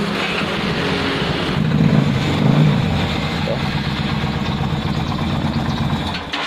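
A Harley-Davidson motorcycle engine starts and settles into a steady, rumbling idle; someone briefly speaks over it.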